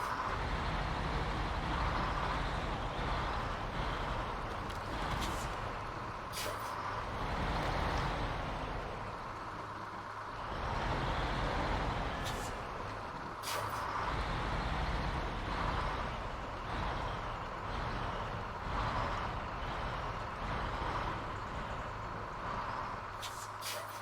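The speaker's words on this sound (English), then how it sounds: "let's detach the trailer and let's stop the engine in this truck" Steady drone of a GMC truck engine hauling a trailer in a driving video game, a broad continuous rumble with brief sharp bursts like air brakes or clunks scattered throughout, loud and without voices.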